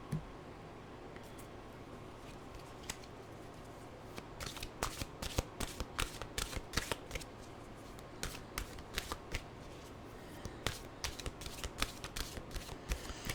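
Mantra cards shuffled by hand, a close, soft continuous rustle with a dense run of crisp riffling snaps building toward the end, no one speaking.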